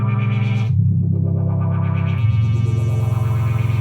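A saved synth patch on a Korg Poly 61-M synthesizer rings out as sustained, buzzy chorused notes with a pitch shift partway through, loud and close, with no talking.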